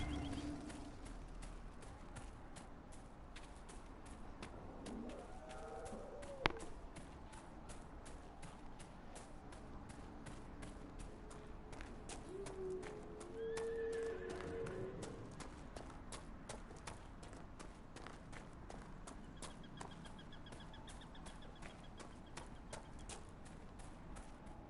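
Horses walking in Dragon Age: Inquisition, a quiet, continuous patter of hoof clip-clops under a faint game ambience, with a single sharp tap partway through and no voices.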